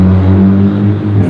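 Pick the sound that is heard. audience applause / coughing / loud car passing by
loud car passing by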